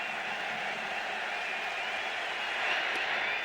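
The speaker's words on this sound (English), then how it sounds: "Look at this crowd." Broadband crowd noise fills a baseball stadium during a 2009 World Baseball Classic game between the USA and Canada, a steady roar from a large audience that swells slightly near the end, with no talk over it.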